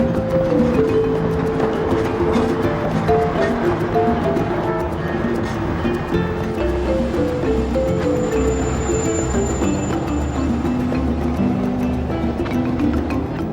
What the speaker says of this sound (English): the rhythm of the train is interrupted by the sounds of big city traffic